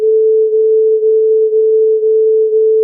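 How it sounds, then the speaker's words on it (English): A steady pure tone pulses in loudness about twice a second as two close-pitched tones beat against each other, a smooth wah-wah throb that continues without break. "Now we are hearing the beat."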